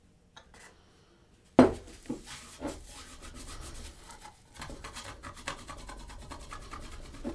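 A glass jar rubbed to remove label residue with WD-40, starting with a sharp knock followed by quiet, steady scrubbing and scraping strokes close by.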